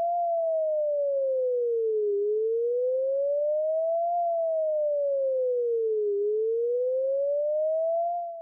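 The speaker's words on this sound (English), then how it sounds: "If we listen to the signal using a receiver with a BFO, it might sound a bit like this." A Doppler VOR VHF navigation signal heard through a receiver with a BFO: a single pure, loud tone sweeping slowly up and down in a smooth, repeating cycle, alone without talk.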